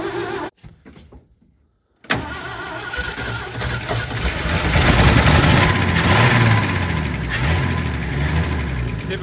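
A Ford F-100 pickup with a newly installed carburetor cranks briefly, cuts out, then fires and runs loud and close, revving unevenly as it settles toward idle.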